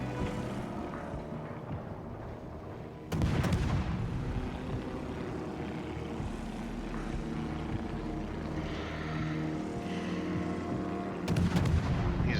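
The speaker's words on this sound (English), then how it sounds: "I'm just gonna start throwing shots around in the smoke" Naval gunfire from a Kagero destroyer in a warship video game: two heavy, booming salvos about eight seconds apart, each a sharp loud crack with a rumbling tail over a steady engine and sea drone.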